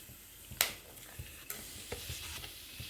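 Cinnamon and cloves hit hot gingelly oil, giving a soft crackle with a few sharp pops and stirring clicks against the pan, close and fairly quiet.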